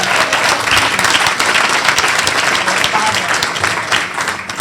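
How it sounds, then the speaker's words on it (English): A banquet audience at a leadership awards event gives a sustained round of applause for an honoree, dense, loud clapping filling the room for several seconds with a few scattered voices in the crowd. "That deserves a round of applause."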